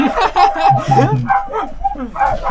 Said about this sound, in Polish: To pies.